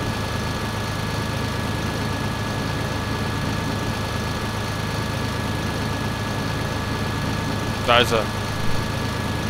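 A self-propelled sprayer's engine idles in Landwirtschaft Simulator 2011, a steady mid-low mechanical drone throughout, with someone speaking briefly near the end.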